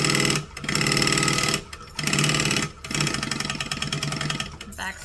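A sewing machine runs back stitches in short loud bursts, three quick starts and stops separated by brief pauses, a rapid mechanical chatter close by.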